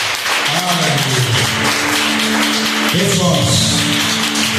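In a Baptist church, the congregation applauds in a sustained wash of clapping. A voice rises and falls over it, speaking or singing in two bursts that carry across the noise.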